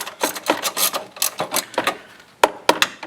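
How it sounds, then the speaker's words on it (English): A socket wrench works on the bottom bolts of a stock motorcycle airbox, giving a run of close ratcheting clicks in uneven bursts, followed by a few sharper metallic knocks. "what you want to do is remove the 2 bottom bolts on the stock airbox"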